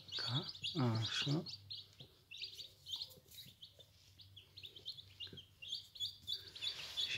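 Newly hatched crested chicks chirp in repeated high, thin peeps, with a louder cluster near the start and softer scattered calls after, close by in a quiet indoor setting.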